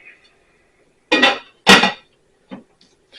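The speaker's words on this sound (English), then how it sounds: "we're going to put the lid on" A lid going onto a pot holding a roast and sauce, two loud close metallic clanks followed by a lighter clink, with quiet gaps between them.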